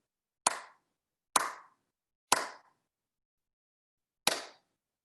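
Four single hand claps in a quiet room during a beginner piano lesson, sharp and close, the first three about a second apart, then a longer pause before the last.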